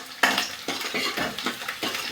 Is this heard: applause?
no